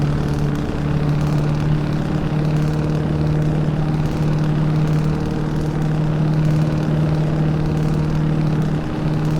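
Scania 143 truck in Euro Truck Simulator with ProMods, its engine droning steadily in 9th gear at constant revs, a loud continuous low hum with no talk over it.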